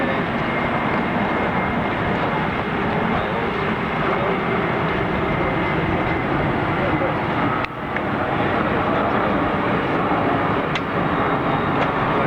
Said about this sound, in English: Comes the Boeing 767 Delta Airlines.